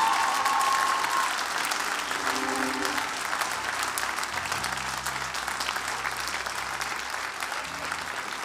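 An audience applauds during a church service at Complexe CEUM, steady dense clapping that holds for the whole stretch, with faint voices and a low musical tone underneath.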